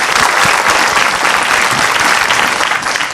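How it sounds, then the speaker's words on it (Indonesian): Loud, dense applause from a religious gathering's audience thanking two preachers, a steady wash of many hands clapping close by for the whole stretch, without speech over it. "Boleh tepuk tangan sekali lagi."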